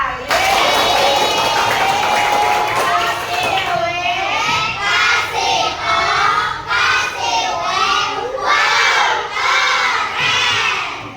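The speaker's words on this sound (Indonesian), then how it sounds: "Tepuk tangan buat Mela dan Rifa." A classroom of children shouts and cheers loudly in a continuous, excited chorus, with scattered clapping faintly underneath.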